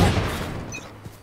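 Gunfire in a Sheriff-pistol-only deathmatch video game, a burst of close, loud shots at the start that fades into a decaying rumble, with one faint later pop and no voices.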